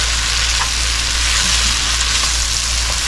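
Minced garlic sizzles steadily in a hot pan while being stirred, a close, loud, continuous frying hiss with a few faint scrapes, no talking.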